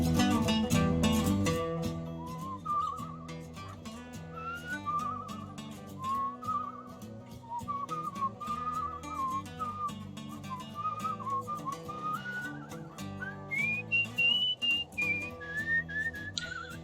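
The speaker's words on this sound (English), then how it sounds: "I don't know how I feel about this whistling minigame." A melodic whistled tune from the whistling minigame in the video game Where the Water Tastes Like Wine runs steadily for about seventeen seconds, clear and alone, rising and falling in pitch without any speech.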